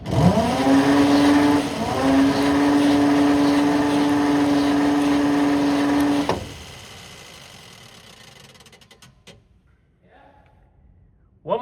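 Engine of a Conqueror tank being cranked over, a loud, steady mechanical whirring drone lasting several seconds before cutting off and fading into quieter rumble.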